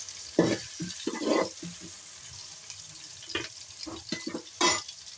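Okra curry ingredients fry and get stirred in a pan, with intermittent scraping and sizzling bursts at close range, quiet overall and no talk.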